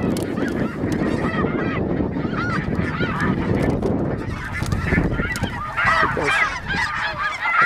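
A flock of Canada geese honks continuously during a snow goose hunt in Canada, many overlapping calls filling the whole stretch at close to moderate distance and growing busier toward the end, with no voices.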